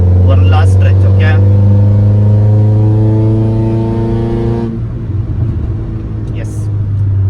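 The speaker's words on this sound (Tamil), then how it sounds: "வண்டியோட லவுட்னஸ்ல இருந்து எல்லாமே பாத்தீங்கன்னா பயங்கரமா அட்டென்ஷன் கிராப் பண்ணுது" A modified 2.4-litre Honda Accord drives with a loud, steady engine drone that rises in pitch as it revs, then drops into a lower rumble near the end. The sound is close and dominant throughout.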